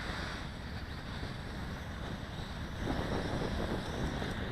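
Wind gusting outdoors around a flying stunt quadcopter, a steady broadband rush that swells slightly louder near the end, with no talking.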